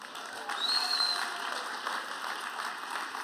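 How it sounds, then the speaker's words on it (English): Applause from a packed lecture-hall crowd of about 280 people at a university event, a steady wash of clapping held throughout with a brief whistle rising above it. "Another round of applause."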